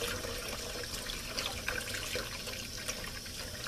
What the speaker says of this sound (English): I'm going to soak it and rinse the salt off of this